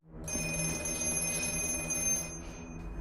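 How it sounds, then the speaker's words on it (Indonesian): A black telephone's bell in the horror film The Black Phone rings steadily and continuously, a high tonal ringing over a low rumbling background, fairly close and moderately loud. "Secara tiba-tiba ia kembali mendengar telepon hitam itu berdering."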